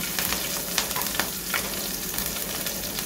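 Cumin seeds crackle and sizzle steadily in hot oil, with busy popping throughout at close range and no talking.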